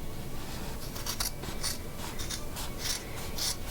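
Scissors cutting through thrifted clothing fabric, close and continuous, with crisp snips and rustling cloth over a steady background hiss.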